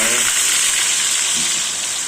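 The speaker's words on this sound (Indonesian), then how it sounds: "sekarang kita langsung goreng tahu" Tofu sizzles loudly in hot oil, a dense, close, continuous crackle that holds steady throughout with no talk over it.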